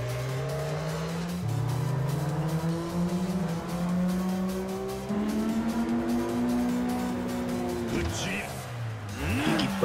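Racing car engine at full throttle in Yakuza 5, revving high through rising gear pulls with shifts, loud and close, ending in tire squeals and rapid pitch sweeps.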